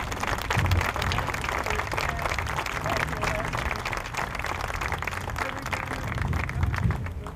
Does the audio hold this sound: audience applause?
yes